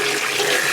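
Water runs steadily from a tap into a measuring cup for a third-cup measure while cooking, a brief, close, unbroken splashing trickle with no talk.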